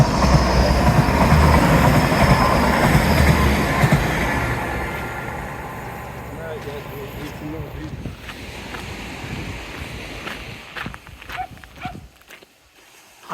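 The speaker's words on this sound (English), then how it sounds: "Train!" A train rolls along a seafront, a loud sustained rumble and clatter close by that slowly fades into the distance.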